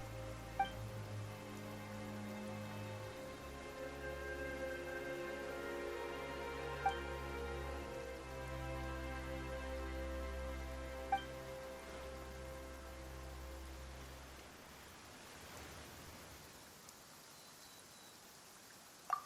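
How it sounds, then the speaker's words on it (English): Steady rain patters across the ground in the Fontaine region of Genshin Impact, a soft continuous hiss beneath sustained background music that fades out near the end, with occasional sharp ticks. "Why is it raining all of a sudden?"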